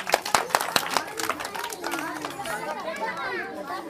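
An audience claps briefly at a casual indoor game challenge, with a quick burst of scattered hand claps that gives way to chattering voices and background crowd noise.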